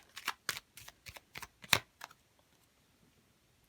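Tarot cards are shuffled in a quick run of crisp riffling bursts up close, with one sharper snap near the end before everything goes quiet.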